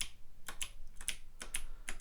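Arrow keys tapped on a computer keyboard while testing a game in a code editor, roughly seven or eight crisp clicks in an irregular rhythm, close and fairly loud, with no talking.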